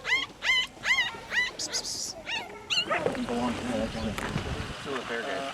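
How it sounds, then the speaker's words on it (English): Several puppies whimper and yip close by in a short run of high, wavering cries in the first half. Then people talk over a busier household background. "Puppies."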